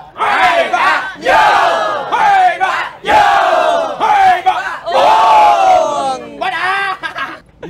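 Wedding guests raise beer glasses and shout a toast together, several loud, rowdy group yells in quick bursts with brief gaps between them, voices whooping and cheering in unison at close range.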